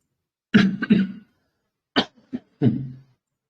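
A few separate coughs in quick bursts, a pair then a short pause and two or three more, close by with quiet in between.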